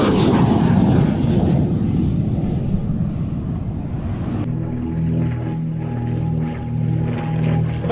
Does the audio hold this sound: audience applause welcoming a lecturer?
no